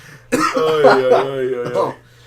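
A single short, harsh cough with some throat clearing, loud and close, lasting about a second and a half with no other sound around it.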